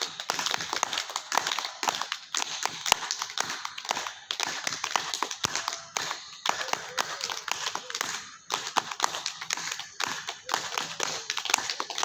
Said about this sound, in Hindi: तो जोर से ताली बजाइए